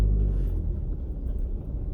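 A car idles and creeps forward in a trail parking lot, a low, steady engine rumble up close with a slight revving swell at the start and no voices.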